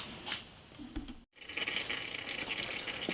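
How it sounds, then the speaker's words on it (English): Engine oil draining from a Briggs & Stratton horizontal-shaft engine, a steady close-up liquid trickle and splash that breaks off for a moment, then continues as a fuller, busier pour. "I'm sure this makes for an exciting YouTube video, watching oil drain"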